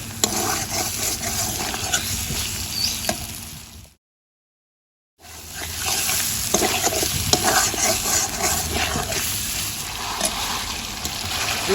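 Spice masala frying in oil for a stingray fish curry: a steady, loud, close sizzle and crackle with stirring scrapes, broken by a brief silent gap before the frying resumes, with no voices.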